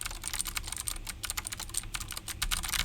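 Clicky mechanical keyboard typed on steadily and close up, a dense run of sharp keystroke clicks filling the whole stretch with no talking.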